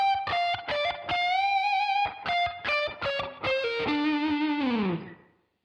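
An electric guitar plays an opening lick: a distorted, effects-laden run of stabbing notes and bends, ending in a long sliding bend that fades out, loud and alone.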